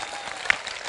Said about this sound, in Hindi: बहरहाल बस जोरदार तालियां बजा दीजिए